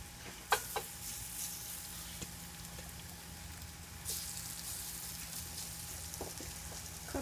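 Veggie fritters fry in an oiled pan with a soft, continuous sizzle and faint hiss throughout, a couple of light clinks near the start and a slightly louder crackle later on.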